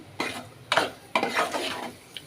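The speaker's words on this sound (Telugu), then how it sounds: "ఇట్లా మంచిగా కలిపేసుకోవాలి మంచిగా మొత్తం కలిసేటట్టు ఇట్లా కలుపుకుందాం" A spoon stirs coconut and toor dal curry in a pan, giving three or four distinct scraping, sloshing strokes with a light sizzle underneath, close and moderately loud.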